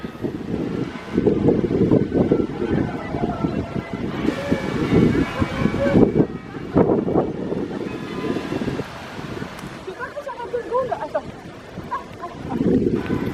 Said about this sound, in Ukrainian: Вітер сильний, це в мене не руки трусяться, це вітром так смикнуло камеру.